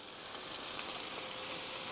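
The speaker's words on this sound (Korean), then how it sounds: "케첩과 토마토 소스가 잘 볶아졌습니다" Ketchup and tomato sauce fry in a pan for a fusilli gratin, giving a steady, even hiss of sizzling that holds without breaks and with no voices.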